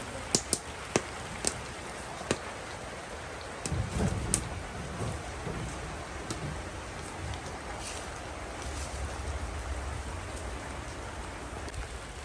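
Steady rain falls on a rainy day, with several sharp cracks early on and a low rumble of thunder building near the middle and lingering beneath the downpour; no voices.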